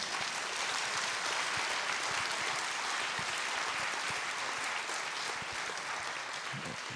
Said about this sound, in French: Je voudrais qu'on remercie et qu'on applaudisse Yves Saint-Omer.